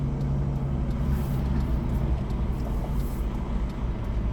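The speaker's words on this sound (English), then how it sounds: "There's a truck right there." A truck idling or passing nearby, a steady low rumble with a broad, continuous hum that holds an even loudness throughout, with faint brief hisses above it.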